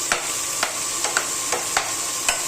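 Bitter gourd (karela) slices frying in oil in a pan, with a steady sizzle broken by about six sharp scraping stirs at regular intervals, close and moderately loud, no voices.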